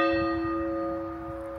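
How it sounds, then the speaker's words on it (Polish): Church bells with golden domes in Podlasie, Poland, ring out with a single loud, sustained clang whose rich tones slowly fade, with no voices. "Bić w dzwony, o tak."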